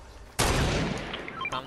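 Heavy sniper rifle shot in a video game, one sudden loud blast followed by a ringing decay and a few metallic clinks, then a second sharper burst near the end.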